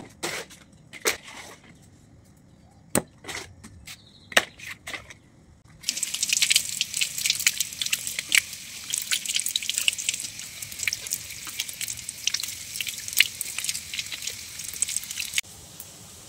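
Cut stalks of dudh kochu taro are rinsed whole in a kitchen, first scattered drips and splashes, then a steady hiss of running water that stops near the end.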